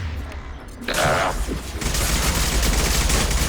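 Rapid gunfire bursts from the sci-fi shooter Mass Effect 2, loud and dense, with a brief lull before a sustained barrage that fills the rest of the moment.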